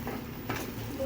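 Vermicelli (semiya) being stirred in a pan for sugared upma, with soft scraping and a low sizzle under steady cooking noise, close and moderately quiet.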